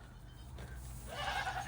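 Goats bleating outdoors in snow on a farm, one near bleat rising toward the end of the clip after quiet ambient noise.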